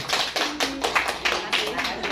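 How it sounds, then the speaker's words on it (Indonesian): A small group claps in a loose rhythm at an online community event, roughly eight separate bursts of hand claps, close and uneven, with faint voices in the background. "tepuk tangan dulu ke Mbak Emi."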